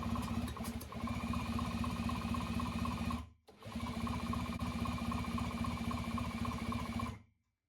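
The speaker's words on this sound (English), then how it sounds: "So now I can put my electric drill on it and give it a spin." An electric drill whirs as it spins a rebuilt Kawasaki S1 four-cylinder engine by hand, a close, steady mechanical buzz with fast pulsing compression beats, pausing briefly once before resuming and then stopping.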